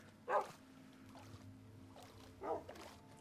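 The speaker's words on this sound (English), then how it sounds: "That's just a dog there." Minecraft dog barking in a game, two short barks about two seconds apart, moderately clear over a low steady background hum with faint other game sounds.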